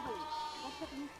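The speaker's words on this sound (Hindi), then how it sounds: "ये देखिए भेड़ बकरियां इनकी" Sheep and goats near a shepherds' camp bleat in several overlapping wavering calls, close and fairly loud, with a voice talking over them.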